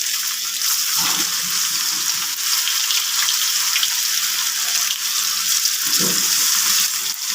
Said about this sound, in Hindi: तो इसे अब फ्राई करना शुरू करते हैं।